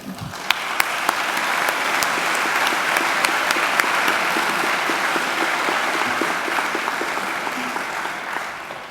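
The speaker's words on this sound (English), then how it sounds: "Let's give them a round of applause for those who are with us today." A graduation ceremony audience applauds support staff, partners, families and friends with sustained, dense clapping that holds steady throughout, sharp individual claps standing out from the crowd.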